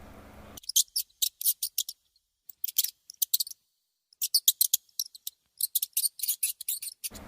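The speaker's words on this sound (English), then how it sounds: "Mice squeak." Mice squeak in rapid clusters of tiny, high-pitched chirps, bursts separated by short silent gaps, close and clear.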